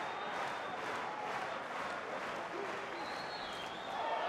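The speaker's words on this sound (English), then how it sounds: "Crowd getting involved as well." Arena crowd at an EFC Africa MMA fight, a dense, continuous roar of voices and clapping that holds steady throughout, with a commentator's talk faintly mixed in.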